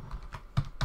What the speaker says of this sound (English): I'm going to right click and just start typing custom event.